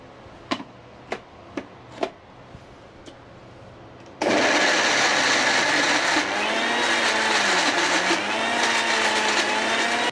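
A few sharp taps are followed by a kitchen mixer grinder switching on and blending cucumber with a loud, steady whirring roar that carries on to the end.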